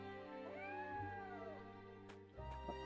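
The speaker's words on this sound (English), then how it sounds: "I can't remember if that cat was always there." A cat meows in the video game Triangle Strategy, one drawn, rising-then-falling meow set over steady game music, fairly clear and close, with a few short clicks from the game toward the end.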